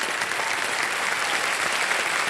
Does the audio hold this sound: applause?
yes